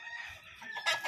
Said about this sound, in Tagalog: Yan ang manok ng aking kapatid guys.